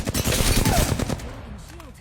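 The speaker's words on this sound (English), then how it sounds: "Shooting at me." Gunfire in the video game Apex Legends, a fast burst of rapid shots for about a second that then cuts off, leaving faint game effects.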